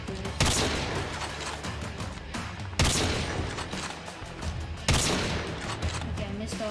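Three sniper shots ring out in Call of Duty Mobile, each a loud, sharp crack with a decaying echo, evenly spaced about two seconds apart over low in-game background noise.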